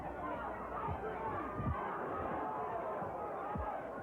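A boxing crowd at a world welterweight championship bout murmurs and reacts in a steady, distant hubbub, with a few dull thumps rising out of the babble.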